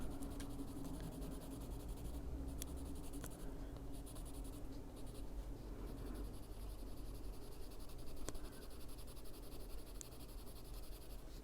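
A blue slate colored pencil scratches steadily across a coloring book page, a continuous close, dry scribbling rasp broken by brief pauses and a few faint taps, with no talking.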